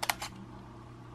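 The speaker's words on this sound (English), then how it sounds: "Honestly, I'll do this because I have a touchscreen shutter." An Olympus camera shutter fires with two or three quick, crisp mechanical clicks close to the microphone, followed by a faint steady hum in an otherwise quiet setting.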